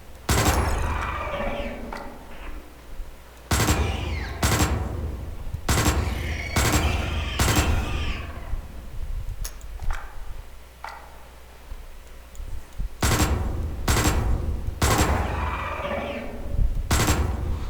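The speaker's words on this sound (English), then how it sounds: "You can stand up here and shoot them, even with the pistol." Pistol shots fired in the sci-fi survival game Osiris: New Dawn, sharp loud cracks coming in irregular bursts of single and paired shots with short quiet gaps between them over a low rumbling background.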